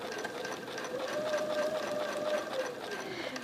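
A sewing machine runs steadily and close by, quilting feather stitches in one continuous hum without pause.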